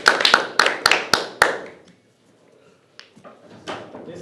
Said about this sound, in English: Round of applause, player number 5